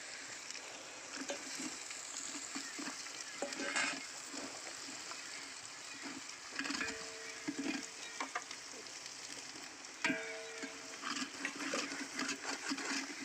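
Cumin and mustard seeds sizzle in hot oil over a wood-fired stove while spices are prepared for katachi amti, giving a steady crackling hiss with scattered sharp pops and small bursts throughout, with no talking.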